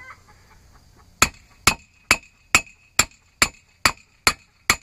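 A wheel bearing race for an IH Hydro 84 tractor is hammered into the hub in a workshop: nine loud, evenly spaced metallic strikes about half a second apart, each ringing briefly, with faint background noise before the blows begin.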